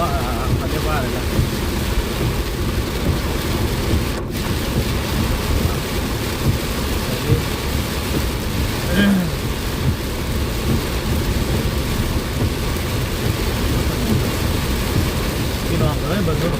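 Heavy rainstorm with thunder pounding a car while driving, a constant loud wash of rain on the vehicle with a sharp crack of thunder early on and a brief faint sound later, close and unbroken.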